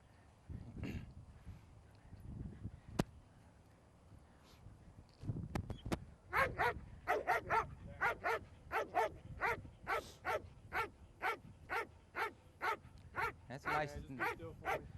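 A police dog barking during an attack demonstration, giving a rapid, evenly spaced series of loud, close barks that continue for several seconds, with people shouting and talking around it.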